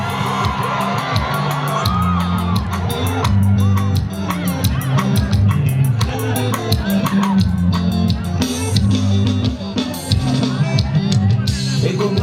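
A crowd at a Mugithi music performance whoops, yells and cheers loudly over steady band music with a strong bass beat, the shouting rising and falling throughout.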